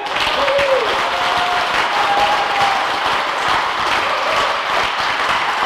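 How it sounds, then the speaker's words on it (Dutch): Steady, even applause from an audience at the opening of an outdoor ice rink, continuous clapping with faint crowd sounds mixed in. "maar graag nog een keer applaus voor de opening."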